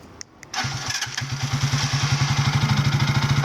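A GPX Legend motorcycle engine, started by remote, cranks briefly and catches, then settles into a steady, close, rhythmic idle with a chugging pulse.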